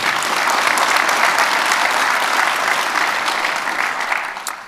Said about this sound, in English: So let's give Tammy a round of applause on that.